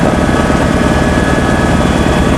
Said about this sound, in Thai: ตอนนี้เรากำลังอยู่ ในเครื่องบินของ กระทรวงเกษตรครับ